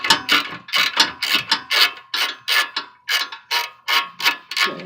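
A wrench ratchets in repeated rhythmic strokes while bolts are tightened on a Function 7 rear strut bar brace, each pull a loud, close rasping click burst with short pauses between.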